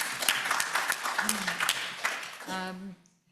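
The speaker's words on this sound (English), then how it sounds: "You're getting a round of applause from everybody." Applause from an audience at a conference session on regional food systems, dense clapping through most of the moment before fading out as a voice begins speaking near the end.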